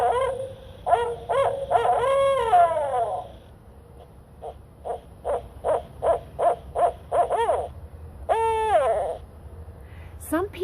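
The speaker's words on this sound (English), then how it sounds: "Here's the barred owl." Barred owl calling in a series of clear hoots, starting with a rising, wavering phrase, then a run of evenly spaced short hoots and a final drawn-out descending note, fairly close and with no talking.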